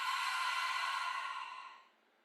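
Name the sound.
audible exhale through the mouth in yoga breathing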